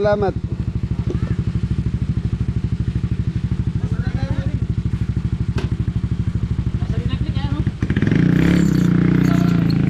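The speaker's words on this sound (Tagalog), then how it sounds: "Ganda ng motor ni Mori oh." A motorcycle engine idles close by with a fast, even thumping putter that runs steadily for several seconds, then a louder, rougher burst near the end, with people talking over it.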